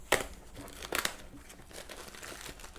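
A package is opened by hand, with sharp crinkling and tearing of plastic or paper in a few close bursts followed by quieter rustling.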